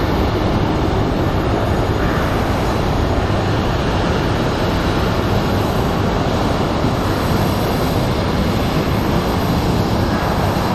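Jet airliner taking off or landing at Phoenix Sky Harbor airport, a loud continuous broadband engine roar holding steady throughout, close and constant with no talk.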